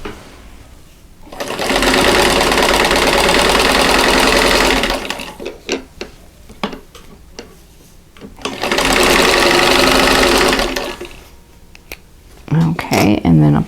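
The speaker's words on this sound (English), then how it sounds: "I'm going to sew 1/4 inch seam here" A sewing machine stitches a quarter-inch seam through fabric for a Christmas bauble quilt block. It makes two sustained, loud runs of rapid whirring, separated by brief handling clicks and quiet rustling.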